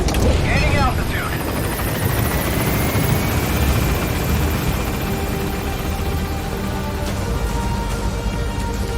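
A helicopter in the Metal Gear Solid V game climbs as it gains altitude, its loud, steady rotor wash and engine roar filling the scene continuously, with a rising whine early on.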